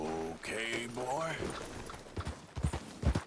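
Horse hooves clip-clop in a quickening series of dull thuds near the end as a rider sets off in Red Dead Redemption 2, following spoken dialogue.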